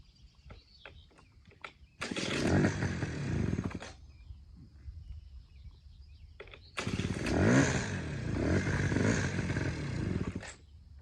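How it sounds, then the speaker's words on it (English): A cold moped engine fires up after a few faint attempts, revs in two loud, buzzing bursts with an idle lull between them, and sounds close by as it is ridden around. "I'm gonna fire it up now and ride it kind of around here a little bit"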